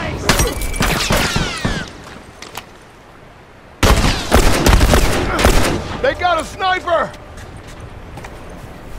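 Rifle fire in The Last of Us multiplayer cracks out in bursts of sharp shots, near and loud, with a quiet gap before another volley; voices talk over the gunfire.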